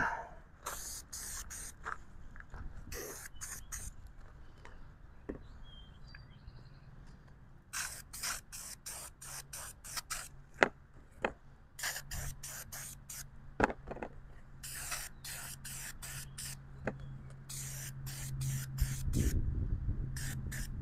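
Oil sprayed onto a Weber carburetor air filter from a Mazda B2200/B2000, coming as repeated short bursts of close aerosol hissing in quick clusters, with faint handling noises between them.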